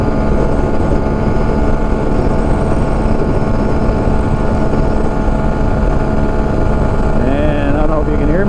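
Steady roar of a CF Moto Papio motorcycle held at top speed in sixth gear, engine drone blended with heavy buffeting wind noise, loud and continuous throughout.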